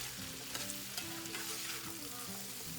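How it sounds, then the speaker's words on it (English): Diced sweet potatoes sauté in a pan with a dense, continuous sizzle and soft stirring scrapes, fairly close and steady throughout a short stretch, with no speech. "So I'm sauteing and seasoning up these diced sweet potatoes."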